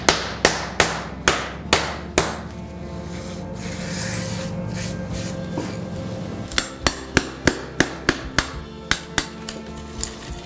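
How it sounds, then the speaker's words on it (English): Sharp hammer taps strike a broken floor tile laid on concrete, a quick run of evenly spaced blows, then a pause filled with steady hiss and hum before another faster, closer series of crisp knocks. "I'm just going to take my hammer"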